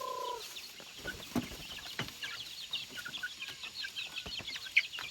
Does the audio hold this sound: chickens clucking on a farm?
yes